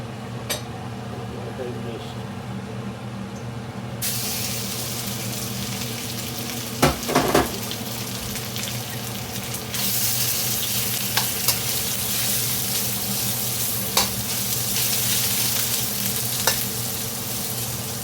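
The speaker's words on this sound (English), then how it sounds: "Making Mexican food in a wok." Vegetables stir-fry in a wok for gluten-free chicken fajitas, giving a steady close sizzle that swells into a brighter, louder hiss partway through, with a few utensil clatters over it.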